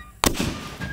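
A homemade sweet gum mortar fires with one sharp, loud boom and crack, followed by a decaying roar and rumble that fades over the next half second.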